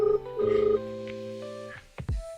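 A phone call rings out unanswered: steady electronic ringing tones pulse in even bursts, with a soft thump near the end and no voice picking up.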